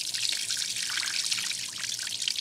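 Tap water streams steadily while brown rice is rinsed, a continuous bright hiss and trickle that stays close and even for the whole short stretch, with no voices.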